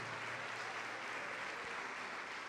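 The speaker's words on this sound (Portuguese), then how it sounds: "Vamos aplaudir ao Senhor Jesus" A church congregation applauds together in a steady, dense wash of clapping that holds evenly at a distance without breaks.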